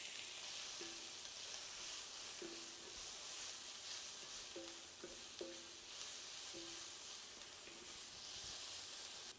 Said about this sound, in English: let's start by adding a little oil to the pan, and we'll fry up our sausages to get a little color on them